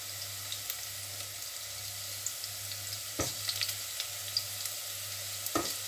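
Garlic-ginger paste frying in a pan for an aloo lobia curry gives a steady, low hiss of sizzling oil, with a faint background hum, occasional stirring clicks and two sharper knocks, and no talking.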